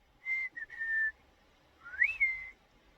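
A shepherd's sheepdog command whistle, a short steady tone, a brief clipped note, then a rising-and-falling swoop held as a flat note, sharp and clear against quiet.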